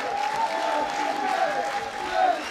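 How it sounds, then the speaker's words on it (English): An arena audience applauds two fighters after a three-round MMA bout, a continuous wash of clapping and cheering, with an announcer's voice carrying over it. "a big round of applause please for both of these men after three hard-fought rounds"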